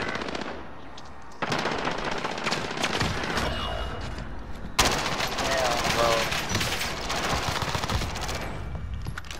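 Automatic machine-gun fire in the Call of Duty: Warzone video game, loud, dense bursts of rapid shots that keep going with brief gaps, while voices talk faintly underneath.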